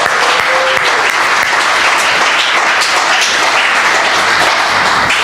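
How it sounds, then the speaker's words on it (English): A gathering welcoming its guests bursts into loud, steady applause from many hands, a dense continuous wash of clapping close by with no talk over it. "we want to clap for you"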